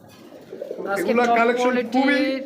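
Red-beaked pigeons cooing at close range in a loft or market setting, a few soft throaty coos rising and repeating in quick succession with faint background voices.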